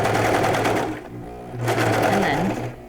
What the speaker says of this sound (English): I'm just going to sew right over it just a little bit.